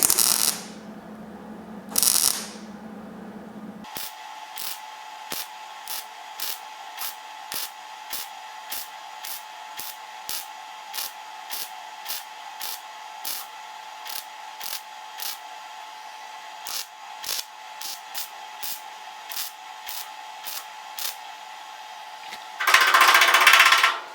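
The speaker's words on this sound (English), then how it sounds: "then we start sanding and use the burr tool" Welds along a GTO door gap are worked with a burr tool, heard as a steady, high whirring grind punctuated by regular short rasping bursts as the tool meets the metal, close and continuous with no talk.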